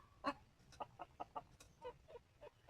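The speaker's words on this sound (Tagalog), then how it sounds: "Nangingitlog si mother hen." A mother hen clucking in her nest as she lays eggs, a run of short, distinct clucks in an uneven rhythm, close and fairly quiet against a faint background hum.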